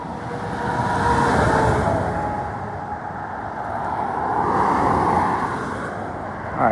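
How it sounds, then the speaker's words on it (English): Steady road traffic rumbles past at a roadside crossing, with broad engine and tire noise swelling and easing as vehicles go by, fairly loud and continuous. "as soon as I cross the road, get out of this traffic,"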